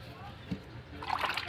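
Water splashes and sloshes briefly into a container as it is poured to mix a homemade antibacterial cleaning solution, a short, close, fairly quiet splash with a person speaking during the pour.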